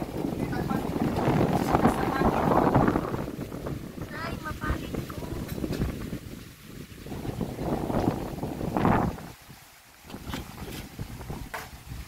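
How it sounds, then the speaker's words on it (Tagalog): Strong typhoon wind roars and buffets across the microphone in heavy gusts, with people talking faintly beneath the rushing noise. "sa lakas ng hangin"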